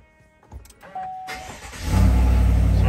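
A Chevrolet Silverado Z71 pickup starts up: a few clicks and a chime, then the starter cranks and the engine catches and settles into a loud, steady idle close by.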